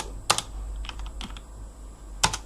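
Keys clack on a computer keyboard while a command is entered in a terminal: a few quick clustered taps, a pause, then another short burst, close and crisp over a quiet room hum.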